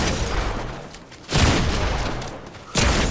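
Gunfire in the video game Fortnite, dense roaring bursts of shots with a loud blast at the start and two more sudden heavy surges, close and filling the whole moment with no talking.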